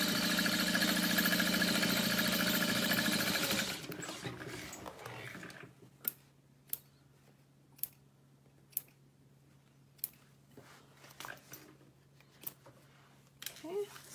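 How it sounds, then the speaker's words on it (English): A sewing machine top stitches the exterior seam of a fabric pouch, humming loudly for a few seconds before stopping, followed by quiet sparse clicks. "top stitch only on the exterior through that seam, but not through your lining"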